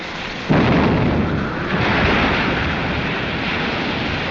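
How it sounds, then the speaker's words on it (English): A ship's cannon in a 1936 film fires once with a sudden loud boom, followed by a sustained roaring rumble that sounds like surf, wind or sea spray, with no talk. "Fire that gun"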